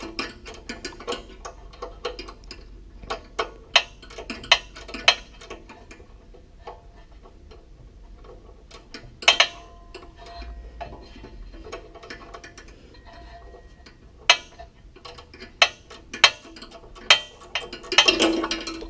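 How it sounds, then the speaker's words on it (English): Ratchet wrench loosening a choke cable fitting on a Toro Z-Master mower, giving sparse, quiet clicking bursts over faint background hum, no talk. "This is where those ratcheting ratchets come in handy."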